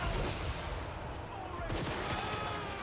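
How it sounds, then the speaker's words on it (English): Handgunner volleys crackle through a Total War: Warhammer 3 battle, a dense stream of overlapping gunshots in a loud, continuous fusillade with a sharper burst of shots near the middle, all over a constant battlefield roar. "As the handgunners try to get some shots in there without clipping our own guys."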